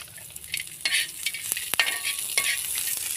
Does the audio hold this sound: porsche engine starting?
no